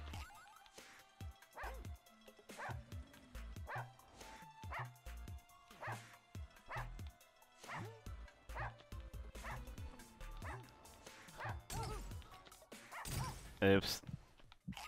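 Dogs in a Russian subway dog video game bark and yip in a steady run of short sharp barks with some whimpering, over a musical game soundtrack, and a voice talks in places.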